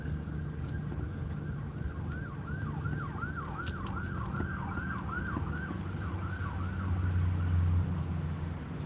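Police car sirens wail in repeated rising and falling sweeps, moderately close and approaching, over a rumble of road traffic, with no talking.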